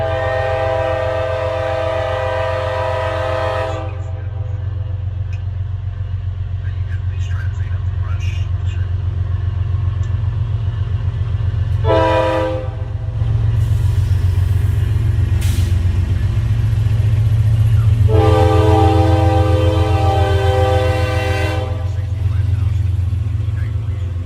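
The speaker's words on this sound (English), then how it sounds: "And another train coming in yet again." A train rolls past loudly and close, its horn sounding in long blasts with a pause between them, over a constant heavy rumble of wheels and cars on the rails.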